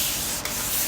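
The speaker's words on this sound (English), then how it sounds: "80 grit sandpaper" Coarse 80 grit sandpaper rubs hard against a car bumper, a close, loud, continuous abrasive scratch.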